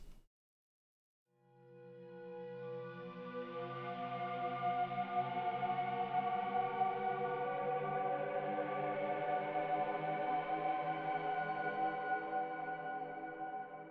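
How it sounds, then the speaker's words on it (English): Pitch-bent flute samples drenched in a big Valhalla Room reverb, used as creepy game music, swell in after a brief silence into a sustained, layered, shimmering drone that holds steady to the end. "And then of course it has the big Valhalla room reverb on it."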